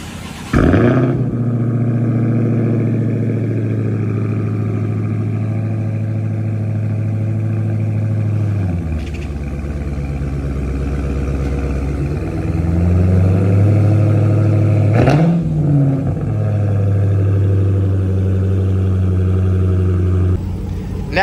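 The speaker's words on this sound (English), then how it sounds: "this is the first real startup on the Hellcat since it has got the new cats on the car" A supercharged V8 in a 2023 Dodge Challenger Hellcat with an MBRP race exhaust fires up with a loud roar, then settles into a deep, rumbling idle with a few throttle blips and revs.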